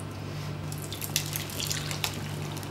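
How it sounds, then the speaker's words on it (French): Hot water trickles from a tap or kettle into a baking dish set up for a water bath for crème caramel, a steady close splashing stream with no talk. "Où je mets au fond un peu d'eau chaude."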